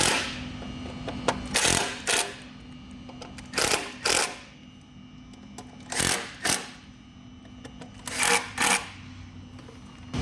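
A hand Torx driver tightening the bolts on an intercooler core for a Patriot Boost installation, giving repeated short ratcheting bursts in an uneven rhythm, close and fairly quiet, with pauses between turns.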